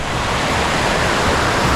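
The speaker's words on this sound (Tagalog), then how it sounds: "nakikita ko rin dito kasi na medyo malakas yung agos ng tubig." Strong river current in mountain country in Nueva Vizcaya, heard as a steady, loud broadband rush of flowing water with no breaks, close by and alone.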